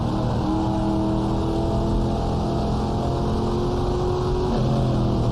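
Porsche 904 racing engines in the GTR2 sim at the 1966 Sebring 12 Hours, a steady loud drone of several cars at high revs, with shifting engine tones throughout and no talk.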